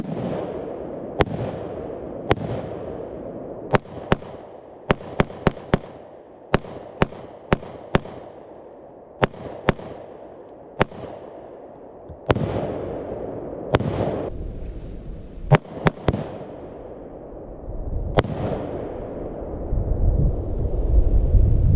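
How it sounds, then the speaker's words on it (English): Rapid sharp gunshots from an AR pistol crack out one after another in uneven bursts and single shots, loud and close, with echoing tails and outdoor wind rumble between them. "What kind of gun is that? AR pistol."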